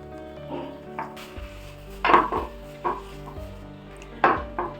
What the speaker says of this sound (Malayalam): ഇനി ഇത് നല്ലതുപോലെ ഒന്നും കൂടെ മിക്സ് ചെയ്യാം